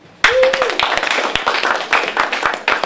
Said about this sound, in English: Let's clap for each other.